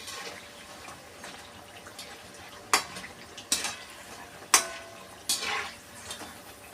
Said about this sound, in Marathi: तर दोन्ही बाजूला छान असा ब्राऊन कलर येईपर्यंत आपल्याला हे तळून घ्यायचं आहे.